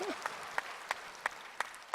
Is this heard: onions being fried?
no